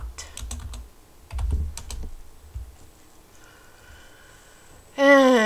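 Fast bursts of clicking keystrokes on a computer keyboard, close and crisp, come in quick clusters with short pauses, typing a search on eBay, then a brief louder sound at the end.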